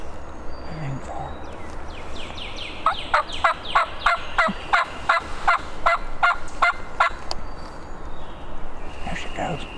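A wild turkey gobbles in a fast series of about ten sharp, rhythmic calls near a swamp edge, fairly close and loud over steady outdoor background noise.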